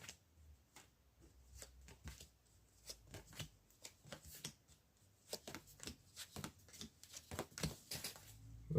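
Tarot cards are shuffled close by, a soft, irregular series of quick flicks and taps that carries on steadily throughout at a quiet level.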